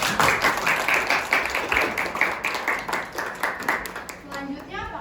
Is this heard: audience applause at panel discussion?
yes